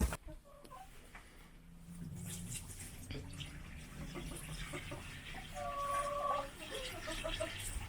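Chickens cluck softly nearby amid quiet rustling and splashing water, with a couple of short, higher calls partway through.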